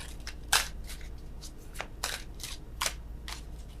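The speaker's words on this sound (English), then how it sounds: "Oh, worst shuffling in the world." Tarot cards being shuffled by hand, a series of crisp riffling snaps and soft slides in irregular bursts, close and fairly quiet.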